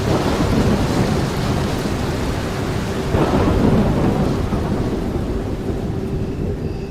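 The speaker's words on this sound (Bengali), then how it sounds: "কিন্তু বিপদটি হলো ফেরার সময় উঠল তুমুল ঝড়।" A thunderstorm with steady heavy rain and rumbling thunder, a loud continuous wash of noise that swells slightly midway, with no voices.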